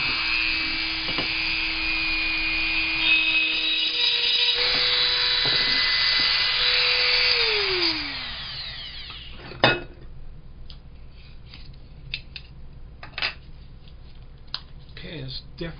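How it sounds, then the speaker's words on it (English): Dremel rotary tool cutting porcelain, a loud, steady high-pitched whine that holds for about eight seconds, then sweeps down and stops, followed by scattered ceramic clinks and taps nearby. "That's when I turn to my handy dandy Dremel tool."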